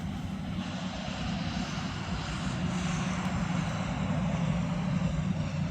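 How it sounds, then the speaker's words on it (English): An airplane passes overhead at night, a steady, broad engine drone that holds evenly throughout, distant yet clearly audible with no voices. "That's an airplane."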